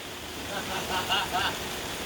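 Heavy rain pours down on the Illinois River during a boat trip, a steady broadband hiss that swells slightly in the middle with no break.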